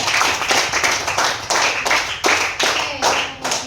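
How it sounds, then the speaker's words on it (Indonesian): Classroom applause for the top student group, a run of rhythmic clapping bursts roughly every half second, fairly loud and close, with a faint murmur of voices underneath. "Tepuk tangan untuk kelompok Buah Naga"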